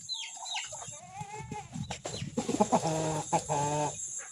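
Several chickens cluck and chatter nearby, with rhythmic clucking calls rising and falling over a few seconds, no talking.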